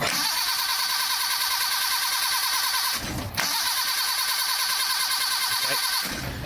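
An engine on a long-abandoned car churns with a loud, continuous, buzzing drone that breaks off briefly midway, then carries on steadily.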